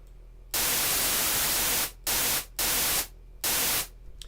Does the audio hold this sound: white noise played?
yes